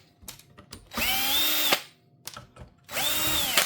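A cordless power drill unscrews the screws from a neglected graphics card: two loud whirring bursts with rising pitch, each about a second long, separated by quieter clicks and handling noise.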